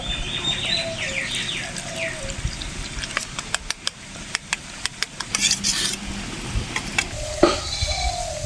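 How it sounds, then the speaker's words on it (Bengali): Turmeric and chili powder are stirred into water to make a spice paste, heard as close, wet scraping and clinking of a spoon against a bowl, with sharp taps in the middle and birds chirping in the background. "এবারে জল দিয়ে মশলাটা গুলে নেব।"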